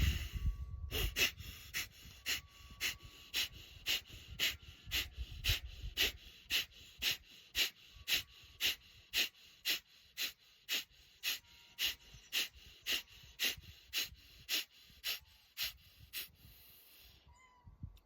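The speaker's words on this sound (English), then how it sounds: "Breathe in." Deep, rhythmic breaths, about twenty even breathing cycles in steady succession, close and clear, with low rumbling background at the start.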